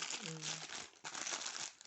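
A plastic package from an AliExpress order of craft and jewelry-making supplies being crinkled and pulled open, a sustained quiet rustle with a sharper crackle midway.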